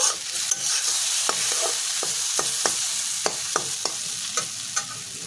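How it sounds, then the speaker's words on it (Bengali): Steady sizzling of boiled papaya frying in a pan, punctuated by a series of sharp scraping strokes as a spatula stirs it. "এখন একটু ভেজে নেব"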